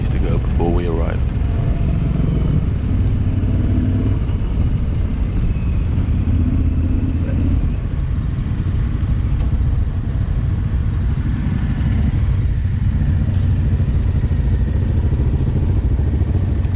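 A small blue motorcycle riding along the road, its engine a loud steady drone mixed with heavy wind rumble throughout, with a voice speaking briefly near the start.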